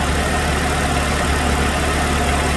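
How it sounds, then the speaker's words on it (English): A 2006 Chevrolet Malibu with a 2.2 engine idles roughly on four cylinders, a loud, close, continuous low rumble with uneven pulsing and no voices. "it's definitely running on 4 cylinders now"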